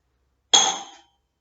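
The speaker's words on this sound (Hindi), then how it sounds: "ये है ग्लास की आवाज।" A single bright glass clink, a sharp ringing tap that fades out over half a second.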